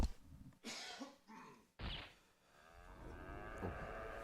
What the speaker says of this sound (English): Actually, I just had a cough attack.